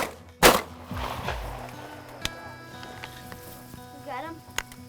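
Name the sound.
gunshot while hunting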